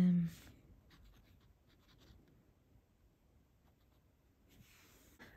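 A fountain pen writes on paper for an ink swatching session, giving soft, quiet scratching strokes close up, with a brief sound at the start and some breathing.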